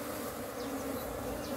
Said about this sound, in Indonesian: Lebah Jawa liar, madu lebah Jawa liar.